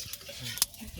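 Peanuts frying in a pan while being stirred, short scraping strokes and faint sizzling with a sharp metallic clink, brief and close.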